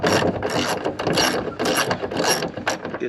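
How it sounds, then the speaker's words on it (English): A ratchet wrench loosening a hood bolt under the hood of a Ford Mustang, a run of rapid metallic clicking bursts close by, with no talking. "Lefty loosey, righty tighty. This, you know, this is a hood bolt, so your hood will loosen up a little bit."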